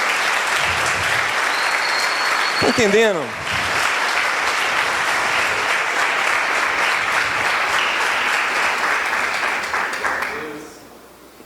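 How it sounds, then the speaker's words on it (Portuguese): Church congregation applauding during a sermon, a sustained dense wash of clapping that runs steadily for about ten seconds before fading, with a preacher's voice speaking briefly near the start. "Você pode aplaudir ao Senhor por isso?"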